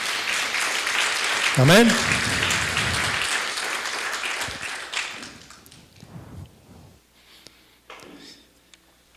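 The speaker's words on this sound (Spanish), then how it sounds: "Dele un aplauso al Señor" Church congregation applauding during a service, a loud burst of clapping mixed with voices and a spoken response, gradually fading toward quiet with scattered sounds near the end.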